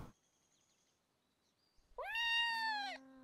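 A cat gives one clear, fairly loud, drawn-out meow in a quiet indoor setting, preceded by a few faint small noises.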